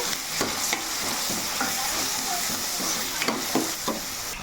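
Tomatoes frying in a pan with onion paste and curry leaves, a steady bright sizzle broken by regular scraping stirs of a spoon against the pan, close and continuous.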